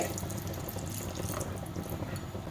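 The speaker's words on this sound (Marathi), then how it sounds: "इथे मी अजून अर्धा ग्लास पाणी घालते" Half a glass of water pours steadily into a pan of cooking kohlrabi, a continuous rushing splash that holds at an even level throughout.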